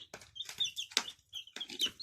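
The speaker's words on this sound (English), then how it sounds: "So we've got 9 chicks." Baby chicks under a heat lamp peeping in quick, high, close chirps, several overlapping calls repeating in short bursts with soft rustling beneath.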